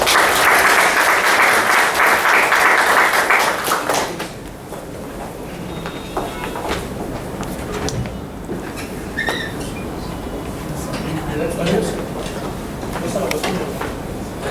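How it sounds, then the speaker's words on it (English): An audience at a university leadership program inauguration gives a guest speaker a round of applause, dense clapping for about four seconds that stops abruptly, followed by quieter room noise and a voice speaking. "a round of applause for him"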